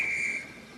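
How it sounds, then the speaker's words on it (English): A single shrill, steady railway guard's whistle blast, close and clear, lasting under half a second before cutting off. "the guard blew his whistle"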